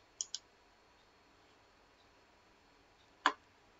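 A computer mouse gives a quick double click, then after a few seconds of near silence a single sharper click, all close and crisp against a quiet room.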